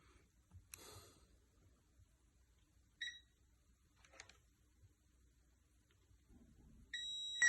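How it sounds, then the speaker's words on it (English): A multimeter on continuity test across repaired game controller wiring gives two short, clean electronic beeps, one near the middle and one at the end, in an otherwise very quiet room with faint handling noise. "let's now test for continuity and see what happens"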